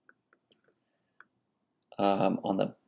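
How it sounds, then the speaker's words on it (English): Several faint, quick computer mouse clicks sound in the first second or so, spaced irregularly, before a louder burst of sound takes over near the end. "So if you click on home here"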